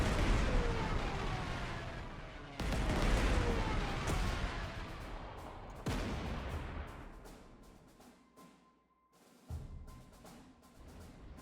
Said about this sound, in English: I now have Stukas, which can drop bomb.